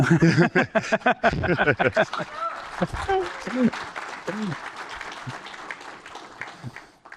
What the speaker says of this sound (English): So, it's worth an applause.